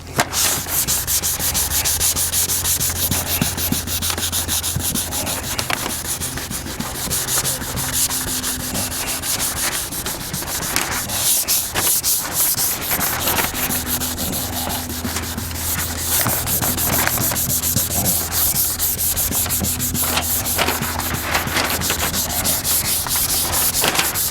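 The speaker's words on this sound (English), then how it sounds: "now I'm going to feather it out with the Superfine Scuff pads" Superfine scuff pads rub back and forth over sanded car paint during a mobile paint repair, making a continuous close, loud abrasive scrubbing with a quick repeating rhythm and no speech.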